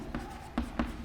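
Pen strokes on paper as an equation is written by hand, three short scratchy marks spaced out over about a second, close and fairly soft.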